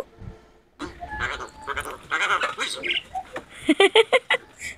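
A myna bird chatters and mimics human speech in short, squeaky phrases, ending in a quick run of loud, clipped syllables.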